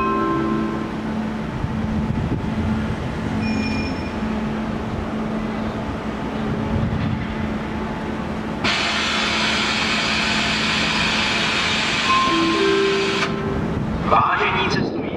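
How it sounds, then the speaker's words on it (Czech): EuroCity train departing Ústí nad Labem main station, a steady rumbling roar with a broad hiss that swells midway and then fades, station announcements and talk heard across it. "vlak je připraven k odjezdu."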